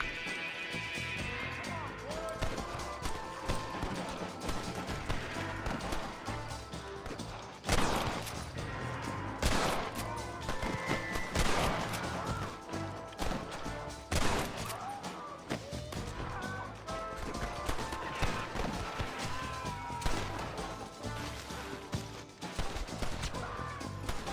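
Gunfire from a Red Dead Redemption shootout comes as sharp broadband cracks and bursts, clustered around the middle and scattered through the rest, over a busy layer of game music and noise.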